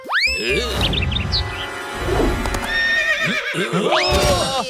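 A cartoon horse gives loud, close whinnies and neighs, with hoof clip-clops and a sweeping background score throughout.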